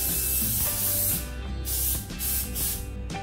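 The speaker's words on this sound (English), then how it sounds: "I'm going to spray some oil." Cooking oil sprayed onto a pizza pan before the dough goes in: a few short, close hissing bursts from a spray can, separated by brief pauses.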